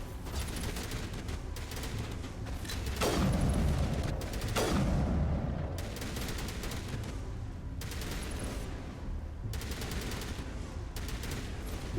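Gunfire in the Mass Effect game, with a steady rattle of shots plus two louder booming blasts and bursts at intervals, heard under faint background voices.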